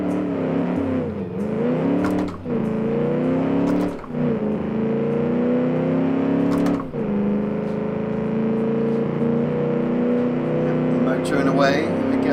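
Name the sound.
muscle car engine driving in Automation/BeamNG video game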